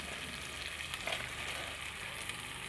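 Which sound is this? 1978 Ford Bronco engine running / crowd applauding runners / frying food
frying food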